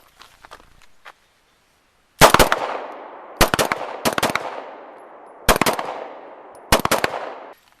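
Jericho 941 pistol fire: a few faint clicks, then loud, sharp gunshots at uneven intervals, several in quick doubled bursts, each trailing off in a ringing outdoor echo.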